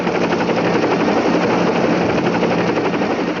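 An attack helicopter flies close and loud, its rotor beating in a steady, dense throb with a turbine whine over it, holding constant throughout with no voices.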